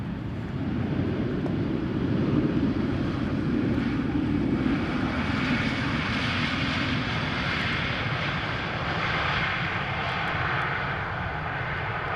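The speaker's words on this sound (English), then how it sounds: "this is Vueling flight 8369, which is an A320 arriving from Asturias" A Vueling Airbus A320 arriving at Amsterdam Schiphol from Asturias on a showery day makes a continuous, fairly loud jet roar that swells slightly and then holds steady, heard alone without voices.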